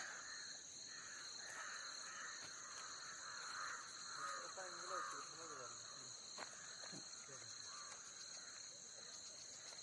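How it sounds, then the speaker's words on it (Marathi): Evening farm ambience at about half past six near tamarind trees, with a steady high insect drone, scattered bird chirps and occasional crow caws, all moderately distant and fairly faint. "हे बघा पक्ष्यांचा किलबिलाट ऐकू येतोय"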